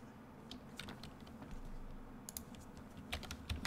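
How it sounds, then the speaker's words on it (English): Typing a terminal command on a computer keyboard: soft, close key clicks in irregular bursts over a quiet room, ending in a few firmer keystrokes. "Type git status in your terminal"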